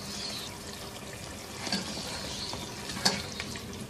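Chicken handi being stirred in a pan after garam masala and crushed kasuri methi are added: a steady soft sizzle with wet scraping stir strokes and a couple of sharper clinks of the spoon, close, no talking.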